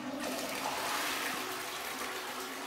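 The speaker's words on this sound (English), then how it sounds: "That's 5 gallons of water flushed down the toilet right there." A household toilet flushes close by, a rushing gurgle of water that swells and then drains steadily through the short stretch, with no voices.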